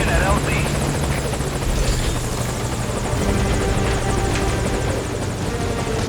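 Helicopter rotors thump steadily at close range, loud and continuous, as a chopper hovers at a landing zone in the video game Metal Gear Solid V: Ground Zeroes, with voices talking over the engine roar.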